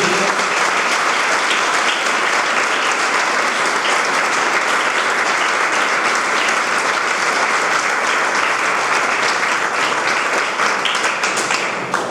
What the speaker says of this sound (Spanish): Vamos a darle un aplauso a la vida carmelitana.